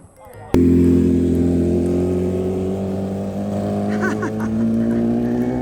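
A car pulls up close by, its engine starting abruptly and then running with a steady, loud hum, engine note shifting slightly as it moves near the house.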